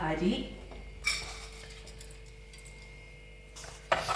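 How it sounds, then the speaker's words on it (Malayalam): Rice and green gram tipped into a pressure cooker of already boiled water for kanji, giving a few sharp metallic clinks and soft rattles against a quiet kitchen background. "അരിയും ചെറുപയറും കൂടെ നമ്മൾ ഇട്ട് കൊടുക്കുന്നു"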